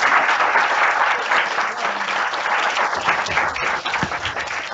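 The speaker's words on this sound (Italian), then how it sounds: "un bel applauso" Audience applause at an event in Catania, dense continuous clapping from a crowd at moderate volume, tapering slightly toward the end.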